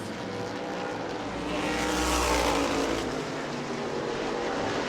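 Florida Modified race cars roar past at New Smyrna Speedway, a loud engine drone that swells and fades as the pack passes nearby.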